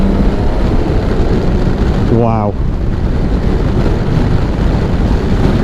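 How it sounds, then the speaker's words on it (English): A 2022 BMW K1600 GT motorcycle engine hums steadily while riding, a constant broad drone mixed with wind rush at the helmet, with a brief spoken exclamation partway through. "This has to be the smoothest motorcycle I have ridden. The engine is just buttery smooth."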